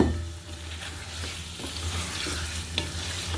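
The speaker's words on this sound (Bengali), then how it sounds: "মাছগুলোর সাথে দিয়ে দিচ্ছি আলুগুলো" Singi fish and potatoes frying in a pan, a steady broad sizzle with a low hum beneath and occasional soft stirring scrapes, no talking.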